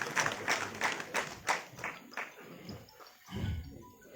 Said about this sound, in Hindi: और सर को इस डाइस पर मैं आपकी जोरदार तालियों से आमंत्रित करना चाहूंगा। जोरदार तालियों से सम्मिलित करें।